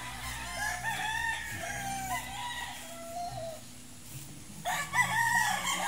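On a farm, a mother hen with chicks clucks and a rooster crows nearby, several bird calls overlapping against soft outdoor background noise.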